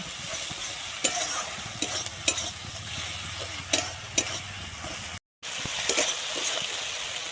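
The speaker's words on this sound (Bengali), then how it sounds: "আমি জিরে আর ধনেটাকে ভালোভাবে একটু কষিয়ে নেব" Ground cumin and coriander paste fries in a pan, a continuous close sizzle broken by several scraping stirs of a spatula, with a brief dropout near the end and no voices.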